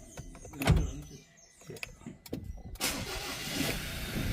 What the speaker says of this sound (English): when we start the vehicle up, it starts right up